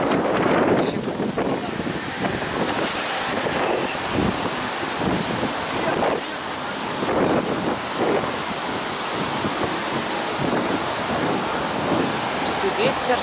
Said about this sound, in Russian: Очень сильный, кстати, ветер.